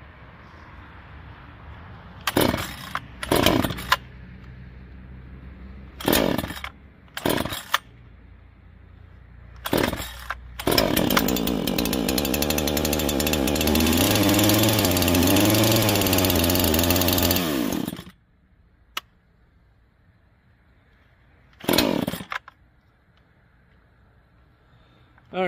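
A new Neo-Tec NH843 chainsaw with a faulty choke lever, heard first as several short sputtering pull-start bursts, then roaring loudly for about seven seconds before cutting out, followed by another brief sputter.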